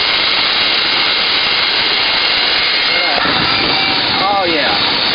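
A Hoover vacuum cleaner runs with its suction restored after being cleared of mud, a loud, steady, close roar throughout, with a voice briefly audible underneath.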